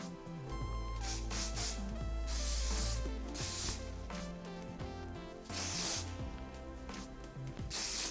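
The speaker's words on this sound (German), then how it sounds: "Bisschen Abstand halten beim Sprühen, nicht zu nah dran gehen." Hairspray sprayed onto styled curls in a salon-style hair tutorial, heard as several sharp hissing bursts of varying length, close and clear, separated by short pauses and soft handling sounds.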